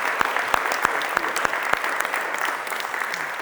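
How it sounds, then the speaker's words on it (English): A food bank staff audience breaks into steady, dense applause, with sharp individual claps standing out near the front of a continuous patter of hands. "A round of applause."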